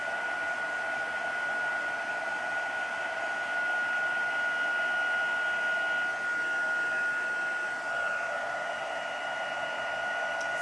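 A heat tool blows steadily as it melts gold embossing powder on vellum, giving an even, close whooshing roar with a faint high whine that runs unbroken the whole time.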